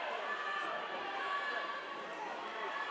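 Spectators at a university invitational swimming and diving meet cheer and shout steadily throughout, a dense, continuous wash of crowd noise echoing in an indoor pool hall with no single voice standing out.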